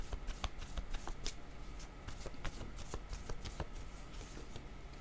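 Tarot cards are shuffled by hand before a card is drawn, producing quiet, close, rapid riffling and tapping in uneven bursts throughout, with no speech.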